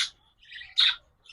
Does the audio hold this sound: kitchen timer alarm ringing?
no